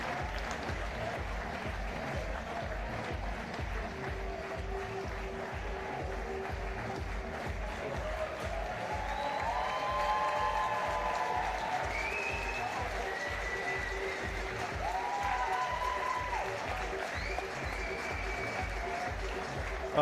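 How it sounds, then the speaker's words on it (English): Sustained applause from a standing crowd at the 2019 Big Flash grand final, a steady roar of clapping lasting throughout with cheering swelling midway, while a commentator talks over it. "It's a standing ovation for what's been a cracking competition."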